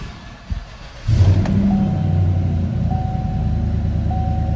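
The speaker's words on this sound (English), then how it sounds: "Let's go ahead and crank this vehicle and see what happens." A 2017 Chevrolet Silverado pickup is cranked and its engine catches, settling into a loud, steady idle after a brief starter whir, close by.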